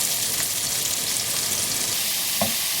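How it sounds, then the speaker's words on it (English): Garlic, onions and salt frying in a pan for a king prawn bhuna, a continuous close sizzle with a couple of soft stirring scrapes. "Stir together the garlic, onions and salt until you have a really nice golden mixture"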